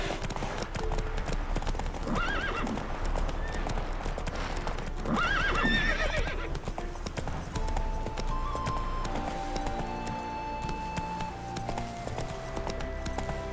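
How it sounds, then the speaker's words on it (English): Steady hoofbeats of a galloping horse clatter throughout with a couple of whinnies, over a continuous ambient background, in the video game The Witcher 3. "Horses."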